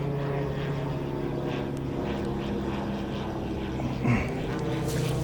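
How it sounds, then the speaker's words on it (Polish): A light propeller tourist airplane drones steadily overhead, a constant engine hum at moderate distance with faint outdoor forest background. "o samolot leci to taki samolot turystyczny"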